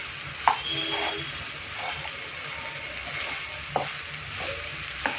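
Soaked sago pearls roasting in oil for sabudana khichdi, a low steady sizzle broken by a few sharp spoon knocks and scraping stirs against the pan.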